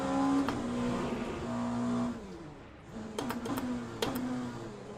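Hypercar engine racing in the video game Le Mans Ultimate at Portimao, a moderately loud engine drone that rises and falls with gear changes and revving, with brief sharp clicks near the end.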